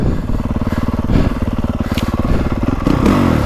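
A 2025 Honda CRF450R Works Edition motocross bike is ridden outdoors, its engine thumping in a fast, pulsing rhythm close to the rider. The note rises and falls, with occasional clattering and thuds from the track.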